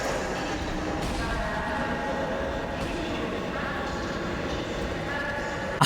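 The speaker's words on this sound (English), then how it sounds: "began playing train station noises instead" Train station ambience used as a video game soundtrack: a continuous, busy wash of rail noise with faint clatter and hollow knocks, some distant murmuring voices mixed in, steady and fairly loud throughout.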